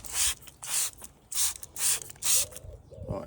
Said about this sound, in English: spray this on and then rinse it off